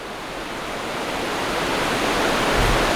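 A river rushes right beside a wilderness campsite, a loud steady broadband roar of flowing water that grows a little stronger throughout, with no voices.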